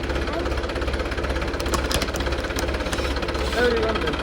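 A tractor engine chugs steadily nearby with a rapid, knocking rhythm, running continuously under faint background voices.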